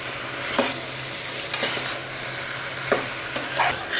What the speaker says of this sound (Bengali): এখন আমি লাউটাও ভালো করে কষিয়ে নিব।